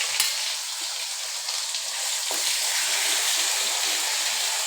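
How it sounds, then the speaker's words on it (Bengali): Onion, garlic, ginger and tomato paste fry in hot oil in a pan, giving a steady, loud, close sizzle with faint stirring scrapes throughout. "এবার দিয়ে দিচ্ছি পেঁয়াজ রসুন আদা টমেটো পেস্ট।"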